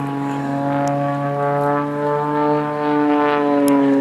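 Aerobatic airplane tumbling end over end at an airshow, its propeller engine droning loud and steady with a strong buzzing tone that swells and dips slightly as it maneuvers.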